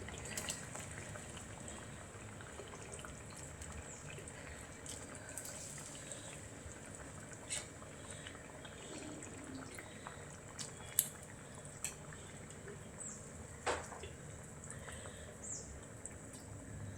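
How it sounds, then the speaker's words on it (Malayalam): Fish curry gravy bubbling in a pot, a faint steady simmer with scattered soft pops and drips throughout, no voices. "നന്നായിട്ട് വെട്ടി തിളക്കാൻ തുടങ്ങിയിട്ടുണ്ട്."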